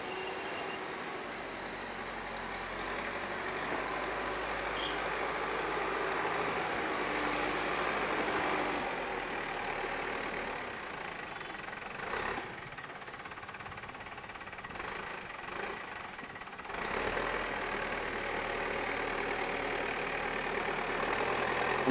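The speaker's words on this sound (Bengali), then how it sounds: "খুবই সাবধানে জেসিপি চালাতে হচ্ছে।" A JCB backhoe loader's diesel engine works steadily while digging wet soil for a building foundation, a continuous mid-distance rumble that swells and eases under load, with brief clanks and thumps midway and no voices.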